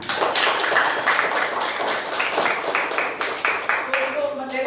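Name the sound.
applause, clapping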